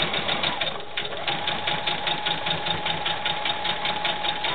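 A sewing machine runs steadily while stitching sashing onto quilt fabric, a continuous close mechanical hum with a quick repeating needle rhythm throughout, with faint talk under it.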